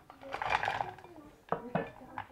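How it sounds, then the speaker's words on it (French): Metal clatter of chocolate dropped into a saucepan, with a few sharp knocks and scrapes at close range, then quiet handling sounds. "Je vais prendre une casserole. Je vais mettre mon chocolat."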